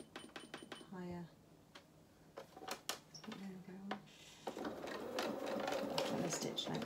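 A domestic sewing machine stitching doll clothing, a pair of cat doll's bloomers, runs in a steady close whirring burst toward the end after scattered clicks and handling noises, with a voice talking earlier.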